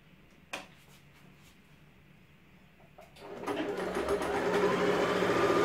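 A sewing machine stitches a quarter-inch seam along frayed fabric edges, starting after a couple of quiet clicks and then running steadily and fairly loud through to the end.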